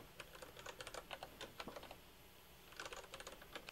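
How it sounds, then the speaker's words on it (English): Code is typed on a computer keyboard in quick, uneven bursts of light clicking keystrokes, faint and close, with a short lull midway before the rapid tapping resumes. "We're going to type in some more code here."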